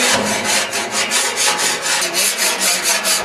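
A metal scraper drags grease from a restaurant kitchen hood in fast repeated back-and-forth strokes, loud, close and harsh with a steady rhythm, and no one talking.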